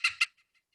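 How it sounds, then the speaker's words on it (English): A Cooper's hawk call played back from the Merlin bird-identification app: two sharp, loud calls in quick succession, then a few much fainter repeats trailing off. "Okay, Cooper's Hawk."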